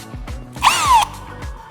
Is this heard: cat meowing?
no